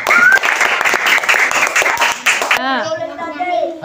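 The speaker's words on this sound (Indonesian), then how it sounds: "tepuk tangan untuk kalian semuanya" A class of children claps loudly and densely in a classroom lesson, the applause breaking off sharply after about two and a half seconds as young voices start singing.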